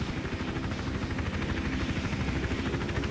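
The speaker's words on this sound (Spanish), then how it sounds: "el helicóptero está haciendo ronda, así que volverá." A patrolling helicopter in the stealth game Hitman Absolution makes a steady, fast rotor chop at moderate distance, constant throughout with no talk.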